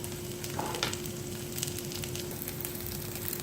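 Loaded potato cakes fry in a hot pan, giving a steady close sizzle with faint crackles and a few soft utensil clicks, no voices.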